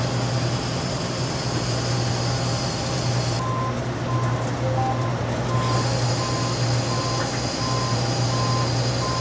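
A combine harvester's feeder house is run in reverse to clear a blockage. A loud, steady engine drone continues throughout, with a repeated high reversing-style beep pulsing at a regular rhythm over it.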